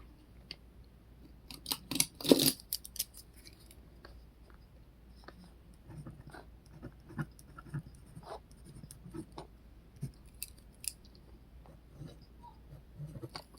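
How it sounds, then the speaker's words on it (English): A pen scratches out notes on paper in short, quiet strokes and bursts, close and alone, while crocheting a land turtle. "So I better write that down."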